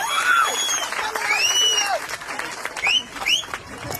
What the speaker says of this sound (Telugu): రామచంద్రన్న గారికి చప్పట్లతో స్వాగతం పలకాలని తెలియజేస్తున్నాం.